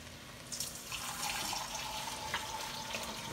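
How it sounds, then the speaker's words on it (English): Water runs steadily into a soup pot with bouillon for a simple soul food soup, a continuous close, moderately loud pour with a few splashy spikes and no talk. "And we're going to add the water to this."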